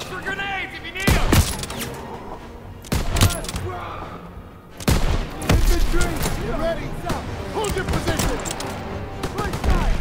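Heavy gunfire and grenade blasts from a WW2 combat video game come in loud, dense bursts that surge and fade, with voices calling out between and over the shooting.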